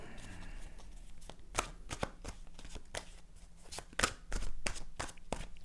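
Playing cards are cut and stacked into three piles on a table during a card reading, giving a run of crisp, irregular snaps and slaps close up, with a few faint background murmurs.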